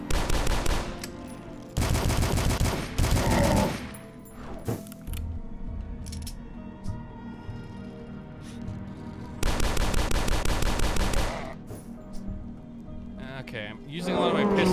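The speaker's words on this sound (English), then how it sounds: "I'm using a lot of my pistol ammo, but that's okay." Pistol gunfire in the first-person shooter game Dusk: loud bursts of rapid shots in two long volleys, with game thuds and effects between them and someone talking over the action.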